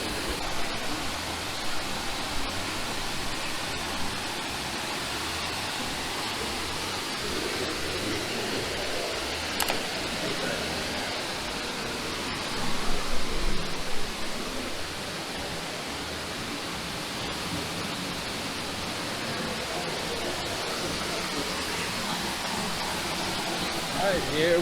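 A broad, steady rush of falling water pours into the Palisaga River, a constant dense roar close by with a brief swell midway, with no clear voices over it.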